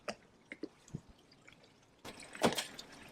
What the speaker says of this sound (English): Here's the bilge pump. William made it running.